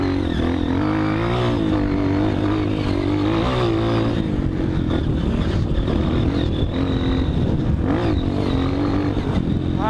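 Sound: dirt bike engine accelerating on rocky trail

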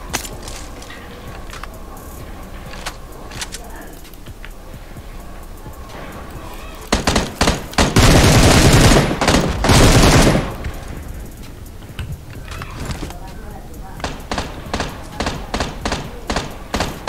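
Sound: gunfire in PUBG Mobile (Battlegrounds Mobile India), a video game

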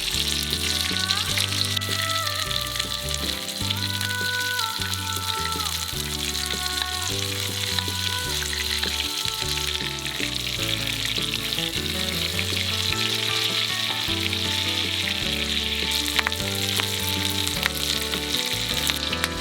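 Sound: steak frying in a pan with butter and thyme

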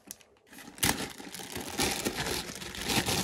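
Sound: tape being peeled off toy packaging

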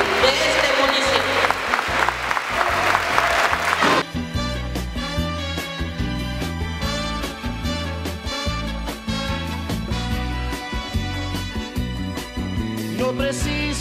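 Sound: strong applause for honored teacher

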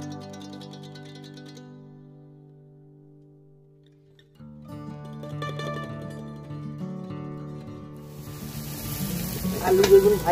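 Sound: potato and eggplant frying in a wok

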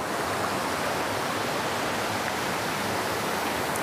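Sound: mountain stream water flowing

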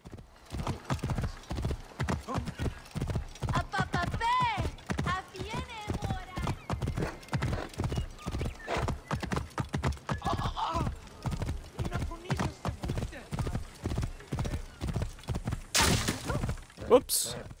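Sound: horse galloping and neighing in video game

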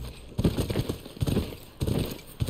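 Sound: horse walking in video game The Last of Us Part 2

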